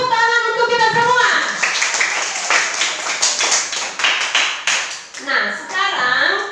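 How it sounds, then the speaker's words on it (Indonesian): A primary-school class claps hands together in a classroom, a burst of quick, close clapping that follows a teacher's spoken line and is followed by further talk. "Tepuk tangan untuk kita semua."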